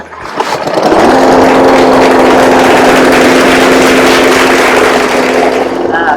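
A petrol grass cutter pulls into life and runs at a loud, steady, high-pitched drone close by, holding an even buzzing hum throughout.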